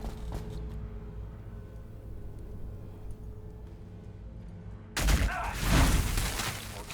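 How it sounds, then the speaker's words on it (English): Ork las cannons fire in the strategy game Warhammer 40,000: Battlesector, opening as a sudden loud burst of blasts and rumbling explosions after a stretch of quieter low battlefield ambience. "Orky las cannons firing away."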